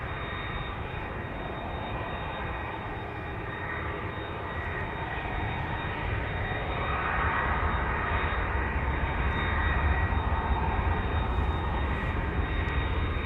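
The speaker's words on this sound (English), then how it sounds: "Right, that's the engines that you're hearing." Distant Airbus A330 jet engines at Amsterdam Schiphol Airport, a continuous broad rumbling roar that swells slightly louder partway through, with no talking.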